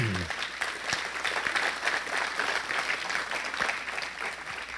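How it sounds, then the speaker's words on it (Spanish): A church congregation claps steadily during a Spanish-language sermon, a moderate, even wash of many hands with a few sharper claps standing out, ending abruptly as the preacher resumes. "Palmas a Cristo, aleluya."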